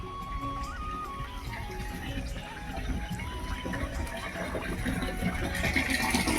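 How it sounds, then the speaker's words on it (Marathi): Steady rushing water flows continuously through an irrigation pipe on a tomato plot, a broad hiss that swells slightly louder toward the end, with faint talk in the background. "बघू शकता मस्त प्रकारे पाणी चालू आहे"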